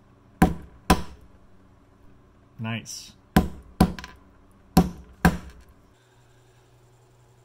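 A small hammer strikes hydroton clay pebbles in six sharp, close knocks, spaced in pairs, with a brief spoken word between the blows.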